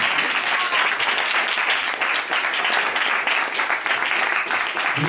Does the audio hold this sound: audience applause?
yes